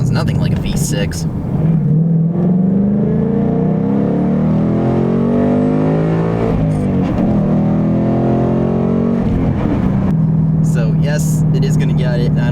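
A 2020 Ford Mustang EcoBoost High Performance with a 2.3-litre four-cylinder and active exhaust revs up close and loud, the engine note climbing and falling through several sustained pulls, with talking over parts of it.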